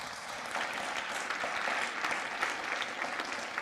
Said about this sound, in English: if we can just give a round of applause to everything that our faculty and staff do day in and day out